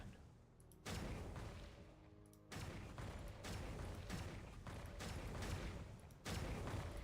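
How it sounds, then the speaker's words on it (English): Cannon fire in the Genshin Impact video game comes as a series of heavy, booming blasts, each a sudden loud burst that rumbles on, about four shots spread over several seconds. "Oh, this is the cannon."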